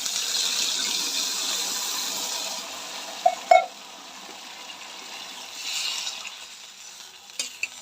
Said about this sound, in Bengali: এই যে মশলা একদম ভাজা ভাজা হয়ে গেছে বন্ধুরা এইবার আমি জল দিয়ে দেবো